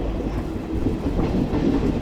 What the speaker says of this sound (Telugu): బాపట్ల రైల్వే స్టేషన్లో ఆగుతుంది ఫ్రెండ్స్